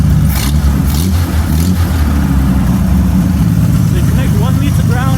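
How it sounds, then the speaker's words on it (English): Hemi car engine idling at a slightly high speed and given light revs: a loud, close, steady low rumble whose pitch climbs toward the end. "So let me rev it a little bit, right?"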